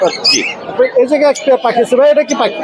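Loud, harsh bird squawks and chattering calls repeat rapidly, close by at a bird market in Mirpur, Dhaka, tangled with other chirps.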